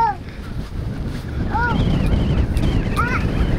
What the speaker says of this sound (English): It's windy, huh, bud?